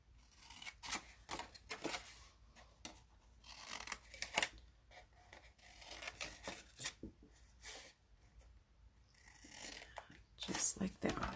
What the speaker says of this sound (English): we're going to take our snips, and we are just going to cut along here